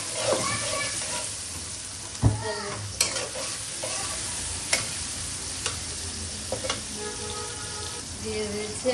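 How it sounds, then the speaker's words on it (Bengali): Chopped onion frying in oil left from frying fish, with kalo jeere already in the pan, hisses steadily while a spoon stirs and clinks against the pan in scattered, sharp knocks. "মাছ ভাজার তেলটা দিয়ে দিয়েছি, এখন দিয়ে দিচ্ছি পেঁয়াজ।"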